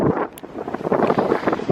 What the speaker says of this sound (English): it's also windy